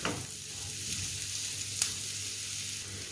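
Sliced onions sauté in a pan until turning transparent, giving a continuous close hiss and sizzle with a single light tap of a utensil partway through.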